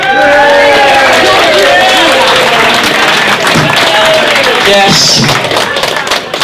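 A rugby club audience claps and cheers in a large room as a host is welcomed to the stage, a dense burst of applause that swells and then tapers off.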